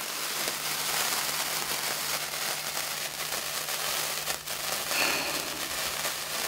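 A 75-year-old 1937 firework burning, giving off a dense, continuous crackling hiss at close range for several seconds with little change in loudness.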